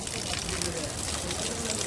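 A continuous soft trickle of natural water running down from a hillside, steady and fairly quiet, with no breaks.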